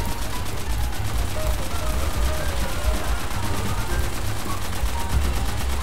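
Constant gunfire from a World War II battle in the Call of Duty: World at War video game, dense rapid bursts running throughout at steady loudness, with players talking over it.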